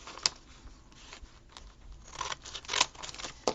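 Scissors snip through folded magazine pages for a Christmas tree craft, giving several sharp, close cuts in an irregular rhythm over a soft rustle of paper.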